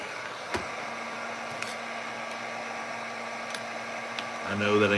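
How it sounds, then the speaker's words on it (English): A hair dryer blows steadily on a toy figure's boots, a constant close whoosh and hum with a few small knocks, getting louder and rougher near the end. "I'm blow drying Boba Fett's boots."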